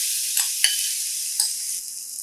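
Chopped ridge gourd in a hot oil tempering with mustard seeds and turmeric sizzles steadily and close by, a continuous hiss with a few soft clicks of stirring and no talk.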